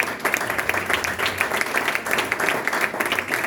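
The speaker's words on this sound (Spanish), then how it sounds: "Denle un aplauso al Señor por eso." A church congregation claps together during a Spanish-language sermon, loud dense applause filling the room without pause, sustained and even from start to finish.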